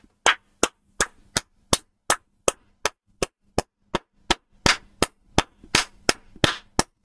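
Slow, evenly spaced hand claps, about twenty sharp loud strikes over seven seconds from a single person, with no talk in between.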